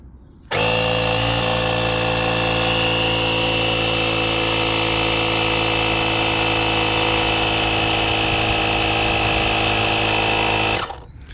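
A GOOLOO A3 portable air compressor and jump starter inflating a car tire to 30 psi runs loudly for about ten seconds, a harsh steady buzzing drone that starts suddenly and cuts out on its own.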